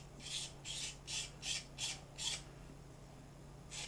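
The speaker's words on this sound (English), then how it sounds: "cut that off with a knife as well." A knife cuts a small fin off a wooden pencil fishing lure in about seven short, quiet scraping strokes at a steady rhythm, followed by a pause and one last stroke.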